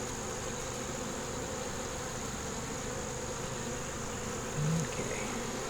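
Honey bees buzz steadily at a hive where wax moth damage is being repaired, a dense continuous hum filling the whole stretch, close and even, with no talking.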